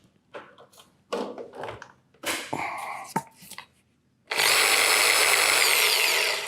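A Bosch GSB 600 impact drill runs at low speed with a steady, loud whirring drone that starts abruptly and holds. Scattered handling clicks and knocks come before it.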